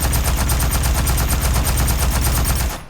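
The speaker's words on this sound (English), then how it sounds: "new heavy assault rifle as my primary, which is this thing here, the Type 88" Type 88 heavy assault rifle firing in Aliens: Fireteam Elite, a continuous rapid burst of loud, punchy automatic gunfire with no pauses, cutting off abruptly after about three seconds, with no voices.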